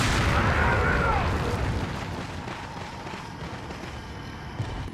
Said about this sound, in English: And this is where we use a grenade.